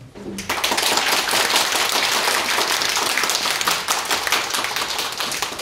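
An audience at a conference on overseas Korean policy at a Seoul press center claps after a presentation, a steady dense burst of applause that starts abruptly and keeps going loudly, with no speech over it.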